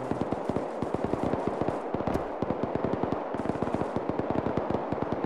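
Rapid automatic gunfire rattles continuously for several seconds in ArmA 3 with the Iron Front mod, the shots coming as dense, evenly spaced bursts that sound loud and fairly close.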